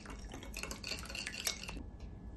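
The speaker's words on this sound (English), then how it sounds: "Grab a little whisk and just whisk everything together." A small whisk stirring dry spices (cayenne or chipotle and oregano) together in a bowl, quick light clinking and scraping for about two seconds, quiet and close, then stopping.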